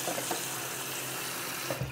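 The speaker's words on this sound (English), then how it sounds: "I'm going to, you know, wet my face" Tap water runs steadily at a sink while someone wets their face before a double edge safety razor shave, a continuous close rush with faint splashes near the end.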